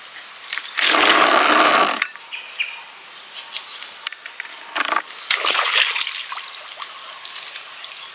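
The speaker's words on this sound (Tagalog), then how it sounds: "Ayan po, ilog." River water beside a fish pond splashes and sloshes in loud bursts, with quieter trickling between them and no speech.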